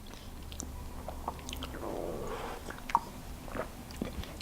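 Buttery shortbread cookie being chewed, with soft crunchy bites and mouth sounds close up, a sharper crunch near the middle, no talking.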